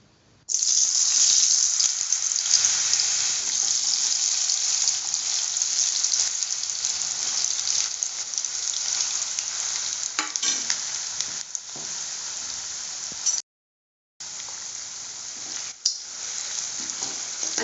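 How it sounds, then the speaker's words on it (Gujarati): Potato pieces fry in hot oil for fasting sabudana khichdi, giving a loud, steady hiss and sizzle with a few stirring clatters and one short break in the sound. "તો આપણું તેલ ગરમ થઈ ગયું છે। આપણે એમાં ધીમે ધીમે બટેકા નાખી દઈશું"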